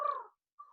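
A person's voice imitates a dove's gentle cooing: two soft, tonal notes separated by a short pause, close and fairly quiet.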